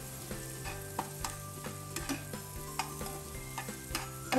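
Small shrimp sizzling in a hot pan while being stirred, with a steady fry hiss broken by regular scraping strokes of the spoon, close and clear with no voices.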